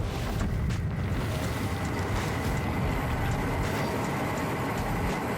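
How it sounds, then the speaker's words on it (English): Roaring flames pour from a designed flamethrower, built in Krotos sound-design software, as a dense, steady, close broadband rush of fire noise that holds constant with no talk. "finally we have the flames coming out of the flamethrower"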